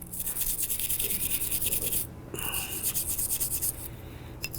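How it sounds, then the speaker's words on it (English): A stiff brush scrubs dry over the slide of a Smith & Wesson M&P Shield 9mm pistol, giving close, steady rhythmic rasping strokes with a short pause midway and quiet surroundings. "first step is that we're going to dry brush every part of this pistol"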